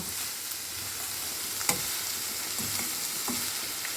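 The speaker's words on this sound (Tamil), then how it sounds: "எதுவும் போட்டு நல்லா வணக்கிடாதீங்க லைட்டாக வணக்குனா போதுங்க" Spring onion lightly sautés in a pan with a steady close sizzle and crackle, marked by a few sharp spatula taps and stirring scrapes.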